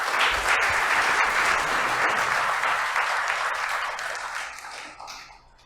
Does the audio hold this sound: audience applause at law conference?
yes